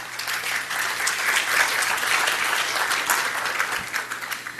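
Audience applause at an international community relations congress as a mining company panelist is introduced, a loud, sustained, close burst of many people clapping that holds steady and begins to thin at the end.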